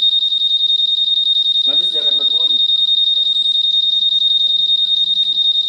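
A Honda Vario 150 motorcycle alarm emits a continuous high-pitched electronic tone, loud and steady, with a brief voice speaking under it partway through.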